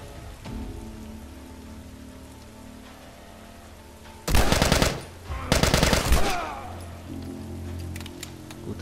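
Gunfire in The Last of Us Remastered on PS4 rings out as two loud, sharp bursts of rapid shots over steady rain pattering on surfaces, with a low rumble beneath and quieter rain in between.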